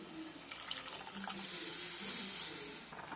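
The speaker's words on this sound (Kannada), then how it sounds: "ನಾನು ಒಂದು ಪಾವ್ಗೆ ಎರಡು ಇದು ಬಟ್ಲು ನೀರು ಹಾಕ್ತಾಯಿದ್ದೀನಿ" Water is poured steadily into a cooking pot while making fenugreek leaf pulao, a continuous close splashing gush with a hissy texture and no voices.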